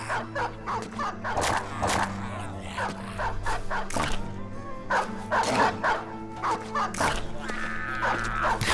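A dog in a video game barks, yips and whimpers repeatedly in uneven bursts over a continuous game soundtrack, with occasional faint speech underneath.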